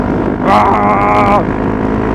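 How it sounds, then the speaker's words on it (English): A mapped Honda CRF250L motorcycle gives a short exhaust rev about a second long that swells above a constant low engine rumble and wind noise, then drops back. "Oh, love that exhaust."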